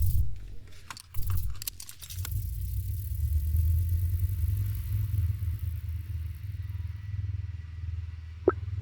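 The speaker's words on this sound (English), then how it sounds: "As we step into our seats, the engines roar to life," Aircraft engines start up in a dramatized audio story: a few sharp clicks, then a deep, steady rumble that swells and holds for the rest of the clip.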